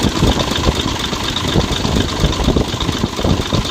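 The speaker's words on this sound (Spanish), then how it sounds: "ahorita que esté el motor prendido no se va a poder escuchar nada" Cummins L10 diesel truck engine idling nearby, a loud, steady, rough clattering rumble with a knocking rhythm, no talking.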